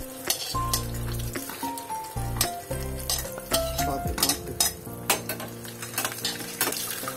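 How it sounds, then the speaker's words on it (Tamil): Cashews fry in hot ghee in a pan for sweet pongal, with a steady close sizzle and the repeated scrape and clink of a spoon stirring against the metal throughout. "நெய் நல்லா காஞ்சதும் ஃபர்ஸ்ட் நம்ம முந்திரி பருப்பு போட்டு"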